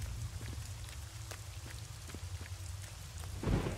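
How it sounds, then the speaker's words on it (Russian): Rain pattering steadily with low rumbling thunder in the Home Sweet Home horror video game, with scattered droplet taps and a louder thunder swell at the end. "Дождь пошел, напряжение пошло."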